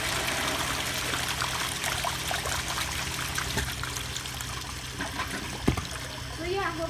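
An American Standard toilet flushes with a steady rush of running water that continues throughout, ending in trickling and a brief clunk near the end, with faint voices underneath.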